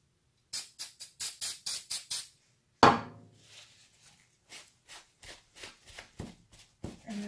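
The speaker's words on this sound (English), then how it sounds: "Some spray paint on it in pieces." Spray paint hisses onto a rotting pumpkin to blacken its rind, in a run of short, evenly spaced bursts close by, followed by a louder thud and further scattered, fainter sprays and handling noises.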